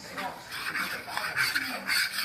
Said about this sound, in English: I'm scraping the bottom of the pan, that way I make sure I get all of the flour mixed in with the milk